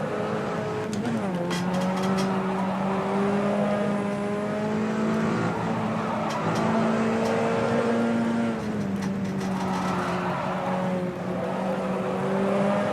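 A Puma P052 race car in rFactor 2 at the Ibarra circuit roars continuously, its engine note climbing and dropping through gear changes and braking, loud and close with no talk.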